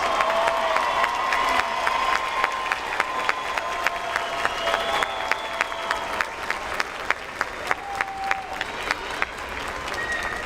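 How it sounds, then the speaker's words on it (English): A commencement audience applauds the 2026 doctoral and master's graduates with steady, sustained clapping that fills the hall, a few sharper claps standing out near the front. "Let's have a round of applause for our 2026 doctoral and master's degree graduates."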